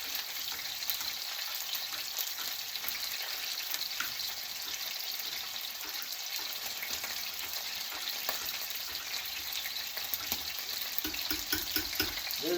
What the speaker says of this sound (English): steak is in the pan